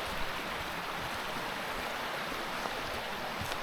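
Steady rushing and babbling water from a forest stream, continuous and fairly close, with no voices, just an even wash of flowing sound throughout.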